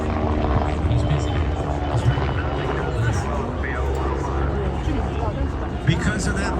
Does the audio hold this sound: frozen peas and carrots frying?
no